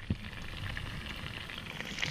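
Food sizzling and frying on a small gas barbecue, a soft steady crackle with a few sharper pops and clinks near the end.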